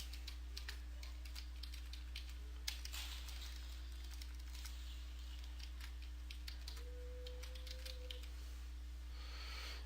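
Someone types on a computer keyboard while entering a name in wing-design software, giving faint, scattered keystroke clicks over a quiet steady hum.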